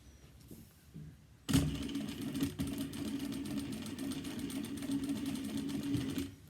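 After a quiet start, a sewing machine starts abruptly and runs steadily, sewing straight along a cross-body bag strap to attach it, a close, even whir of stitching lasting several seconds.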